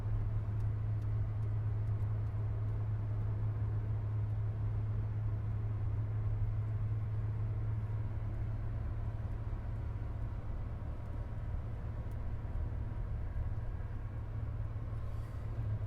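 A 1993 Chevrolet S10 pickup with 71,000 miles driving over a ridged, crowned test road, heard from inside as a steady, loud low engine and road drone with a constant hum and no voices.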